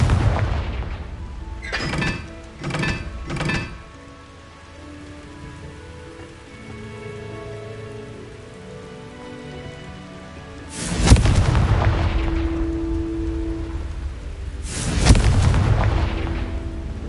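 Confringo blasting spell explosions in Hogwarts Legacy: a quick burst of three cracking blasts, then a lull of low rumble and tonal ambience, followed by two big booming impacts that roll off slowly, no talk.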